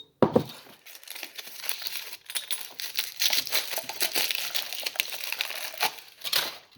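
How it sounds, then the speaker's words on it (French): Aluminium foil crinkling and tearing as it is peeled off small pots during a preschool maths challenge, close and continuous with sharp rustling bursts and no talking. "on enlève le papier aluminium pour chaque pot"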